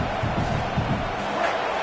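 A packed stadium crowd in the College Football 27 video game makes a dense, steady roar with faint swells of shouting, loud and enveloping throughout the short stretch.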